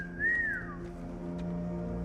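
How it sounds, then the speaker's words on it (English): A single short whistle, sliding up and then down, sounds clearly for under a second over a steady low hum in a scene from The Walking Dead: Dead City episode 6. "there's the whistle"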